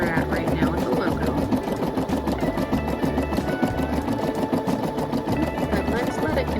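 An embroidery machine stitches a logo onto a shirt, its needle hammering in a fast, steady, loud rhythm up close with a continuous mechanical whir throughout.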